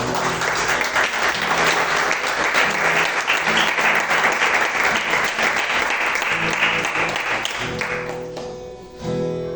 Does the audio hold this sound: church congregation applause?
yes